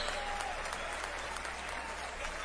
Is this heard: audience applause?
yes